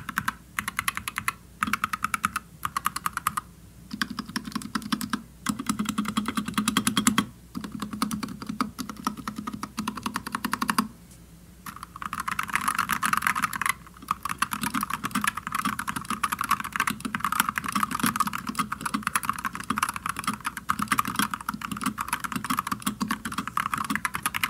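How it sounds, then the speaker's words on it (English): Typing on an NZXT Function 2 mechanical keyboard with sound-dampening foam and a taped PCB, close-up rapid bursts of clicky keystrokes broken by short pauses, with no talking. "Really, it's all about improving the typing sound and feel."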